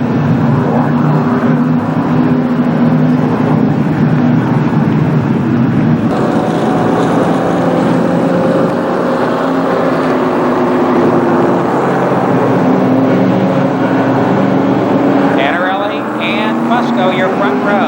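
Late model stock cars in a 10-lap heat race at Columbus Motor Speedway give off a loud, continuous engine drone whose pitch swells and shifts as the pack circles, with a brighter, closer engine rising near the end.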